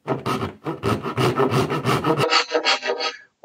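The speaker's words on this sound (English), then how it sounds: "Using the dovetail, going down as if we were doing a dovetail joint." A Veritas dovetail backsaw cuts into wood with rapid, rhythmic rasping strokes, close and fairly loud, then a few lighter, higher-pitched strokes before stopping.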